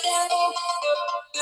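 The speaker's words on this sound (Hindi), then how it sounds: "ये ड्यूल स्पीकर की साउंड है जी" A melodic electronic ringtone plays loudly from an Infinix phone's dual speakers, a bright run of tones lasting over a second before a short break and another note starting.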